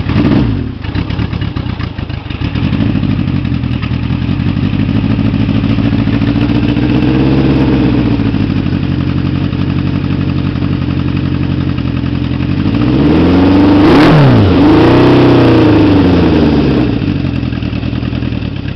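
A Honda CR750 motorcycle engine running with the choke on, loud and close, settling into an uneven idle after starting, with a couple of throttle blips that lift the revs and then let them fall.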